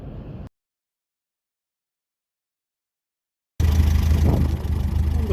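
A 1957 Ferguson 35 tractor engine, warmed up and running on TVO, ticks over at idle with a steady low throb close by, after a brief cut-out of silence.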